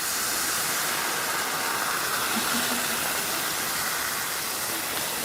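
White wine poured into a very hot pan for a caper sauce, giving a loud, steady, continuous sizzling hiss that holds evenly throughout with no talking.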